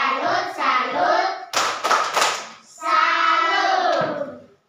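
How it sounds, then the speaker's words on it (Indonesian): A class claps in short rhythmic bursts for group 4, a quick cluster of sharp hand claps set between stretches of chanted voices. "kita tepuk salut untuk kelompok 4"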